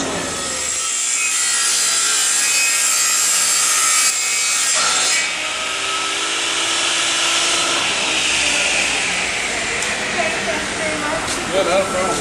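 Panel saw at a store slicing through a 4x8 sheet of quarter-inch wood in one long continuous cut, a loud rasping whine with rising pitch near the end, while voices talk faintly in the background.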